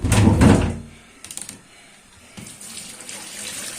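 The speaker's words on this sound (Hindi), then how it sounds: "अब हम क्या करेंगे, बैंगन धो लेंगे।" Tap water runs into a kitchen sink while eggplants are washed, starting with a loud close gush, then dropping to a quieter trickle with a few clunks before the flow picks up again.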